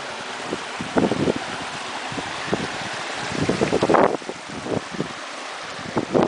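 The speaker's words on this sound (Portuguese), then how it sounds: "Ó a água correndo, ó." Stream water runs over a stone trail, a continuous rushing wash buffeted by wind noise, with bursts of splashing that swell and fade and no talk.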